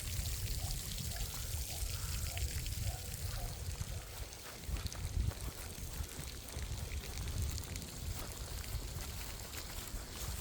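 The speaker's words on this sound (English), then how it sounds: "The water just trickling out." Water trickling and pouring out through old canal locks beside the River Mersey, a steady quiet rushing wash that runs unbroken under a faint windy outdoor background.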